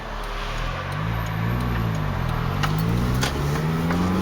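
A 2004 seventh-generation Toyota Celica's engine idling after sitting unused for a long time, a steady low rumble with faint ticking, close and continuous with no talk.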